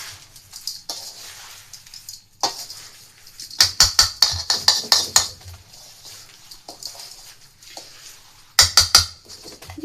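Spoon clinking and scraping in a pot as mango and lasoora pickle are mixed with spices, bursts of quick metallic knocks separated by quieter pauses, close and moderately loud with no talk.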